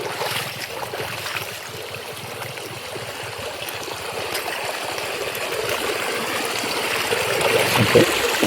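A small river trickles and gurgles over rocks nearby, a steady close flow that grows slightly louder toward the end, with no clear talking.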